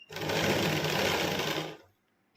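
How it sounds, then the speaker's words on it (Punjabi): Sewing machine stitching elastic along the folded hem edge of palazzo trousers, a loud, close, steady motor whir lasting under two seconds before stopping abruptly. "ਇਹਦੇ ਬਿਲਕੁਲ ਕਿਨਾਰੇ ਕਿਨਾਰੇ ਤੇ ਇਸ ਤਰ੍ਹਾਂ ਮੈਂ ਸਿਲਾਈ ਲਗਾਵਾਂਗੀ"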